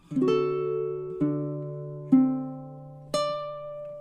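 A baritone ukulele plays measure 8 of a song, four gently strummed chords ringing warm and close, each allowed to sustain before the next, with no voices.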